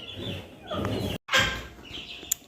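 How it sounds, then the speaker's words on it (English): A dwarf hen clucking on a poultry farm, close and repeated soft clucks with other fowl calling around it. "It's a full hen."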